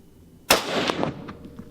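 A single sharp hunting rifle shot cracks out close and loud, followed by a brief rolling echo that fades over about a second, with no talk around it.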